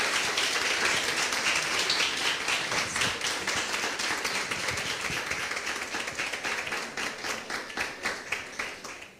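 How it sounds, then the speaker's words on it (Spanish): Church audience applauding to welcome apostle Alberto Calviño at a worship gathering, a dense, sustained burst of many hands clapping that gradually thins and fades across the clip, with no talking. "podamos recibir con un aplauso al apóstol Alberto Calviño"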